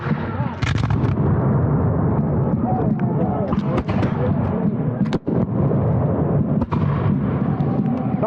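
Musket volleys crack out again and again at a Revolutionary War reenactment of the Battle of Wetzell's Mill, loud and dense over constant battlefield noise, with shouted commands heard through the firing.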